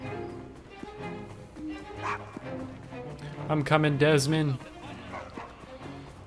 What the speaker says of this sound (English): Keep barking, little buddy.